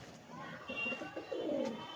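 A pair of Madras pigeons coos in low, throaty bursts close by, a couple of soft rolling calls rising in the second half with faint background noise.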